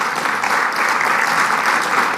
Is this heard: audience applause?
yes